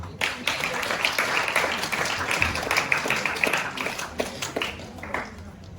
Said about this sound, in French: Samuel, sous vos applaudissements